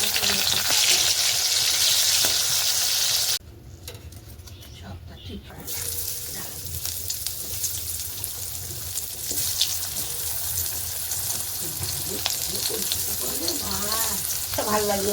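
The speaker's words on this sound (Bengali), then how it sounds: "বরমশাই হচ্ছে সব ভাজাভুজি করে দিল" Vegetables such as pointed gourd and spiny gourd frying in a pan in a home kitchen, a steady broadband sizzle that runs almost throughout, briefly dipping and then returning with clinks and occasional voices nearby.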